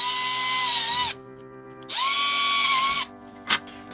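A power drill whines in two bursts as it bores holes into the plastic back plate of a Fisher-Price Crawl 'n Colors Chameleon toy, a high steady motor pitch, close and loud, followed by a short sharp click.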